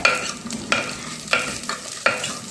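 Onions and chilies sautéing in a pan: a soft sizzle under about five brisk scraping strokes of a spatula, evenly spaced and close.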